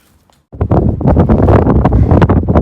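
Strong gusty wind at Beauty Spot, a hilltop on the Appalachian Trail in Tennessee, buffets the microphone after a brief quiet moment, loud and continuous with rumbling bursts.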